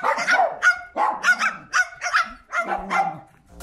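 A parrot imitating a dog, giving about seven short, sharp barks in an uneven rhythm, close and clear with no other sound.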